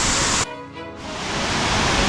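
Xiaoyintan White-silk Waterfall on Yangmingshan, running full after typhoon rains, a steady loud broadband roar of falling water, briefly interrupted before resuming continuously.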